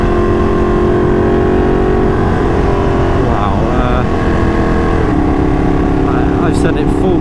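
A Ducati 959 Panigale motorcycle engine drones loud and steady while being ridden, with wind noise throughout and slight shifts in pitch.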